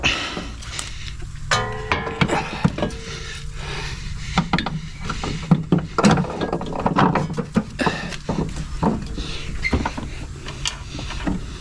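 Ratchet tightening the upper strut mount bolts on a 2011–2020 Toyota Sienna, with bursts of rapid clicking pawl strokes interspersed with clunks of metal parts, close and fairly loud, no talking.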